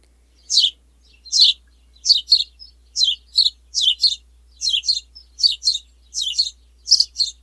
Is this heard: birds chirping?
yes